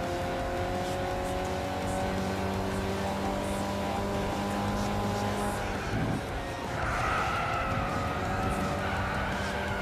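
Compact sports cars race in Gran Turismo 6, engines droning steadily at high revs with layered tones from several cars, then a brief tire skid and shifting pitch as another car closes in; loud and continuous throughout.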